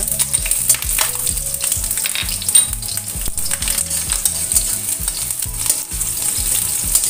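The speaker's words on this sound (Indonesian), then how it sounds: "Tumis bawang merah sampai harum." Shallots sizzle and fry steadily in a pan for a vegetable and eggplant stir-fry, with a continuous close crackle and rhythmic stirring scrapes throughout and no talking.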